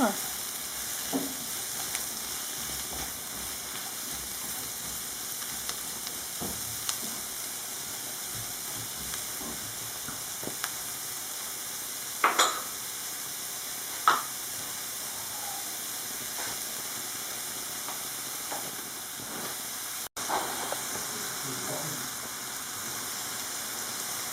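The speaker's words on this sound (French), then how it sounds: "Quand ça cuit, je vais rajouter mes champignons. Et je les laisse cuire." Mushrooms fry in a pan with a steady, even hiss of sizzling that runs throughout, broken by a few faint clicks and taps.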